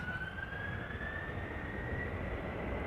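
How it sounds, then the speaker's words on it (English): KLM Airbus A330-300, eight years old and bound for Houston, departs Amsterdam Schiphol with a steady, distant engine roar and a sustained rising whine, heard alone without voices. "KLM flight 661, A330-300 going to Houston, Texas."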